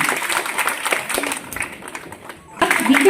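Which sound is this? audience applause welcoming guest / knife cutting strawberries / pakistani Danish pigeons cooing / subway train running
audience applause welcoming guest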